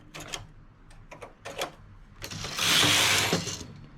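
A domestic knitting machine carriage slides across the needle bed while knitting a striped pattern, giving a series of short mechanical clicks followed by a louder, longer rasping sweep near the end, close and clear.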